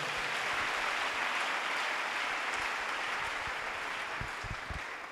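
A church congregation applauds the Lord with sustained, dense clapping that fills the room evenly before slowly tapering off.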